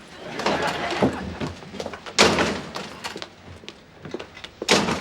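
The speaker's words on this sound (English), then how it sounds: "I never figured you for the silent door slamming type" A door shut during a sitcom scene, several sharp thuds and knocks among busy background noise, with one heavier slam near the middle and another toward the end.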